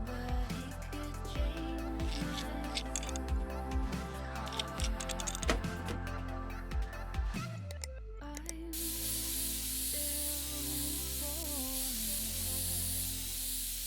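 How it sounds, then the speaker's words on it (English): Game sound of an aerosol can spraying a computer clean in PC Building Simulator: clicks and ticks over a music bed first, then a long, steady, close hiss of spray. "they're going to pay us just to spray their computer down"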